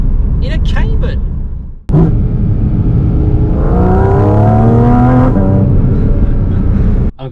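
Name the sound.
Porsche Cayman GT4 RS engine driving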